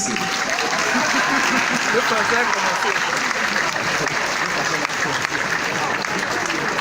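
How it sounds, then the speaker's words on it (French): Continuous audience applause at a speaking event, a dense, even roar of many hands clapping that runs steadily throughout, with faint voices mixed in beneath it. "il faut applaudir"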